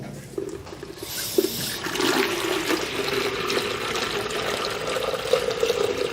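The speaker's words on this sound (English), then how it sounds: "That's just regular tap water" Regular tap water runs steadily and loudly from a faucet into a bucket, a continuous gushing splash that lasts for several seconds with no talk over it.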